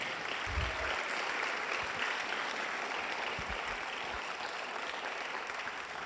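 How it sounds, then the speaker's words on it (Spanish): Steady applause from a church congregation during a Sunday Spanish-language sermon, a dense continuous patter heard at moderate distance, with a few low thumps underneath. "Fuerte ese aplauso al Señor"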